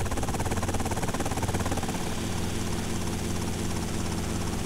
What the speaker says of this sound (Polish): Już siedzimy w helikopterze i lecimy.